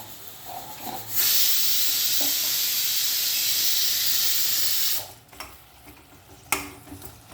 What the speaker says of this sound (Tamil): விசில் பாருங்கள், இப்போ 2வது விசில் வரும்.